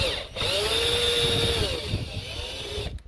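A power tool whirs steadily for about two and a half seconds while removing a screw from a car dashboard instrument panel, close and fairly loud, with a short pause at the start.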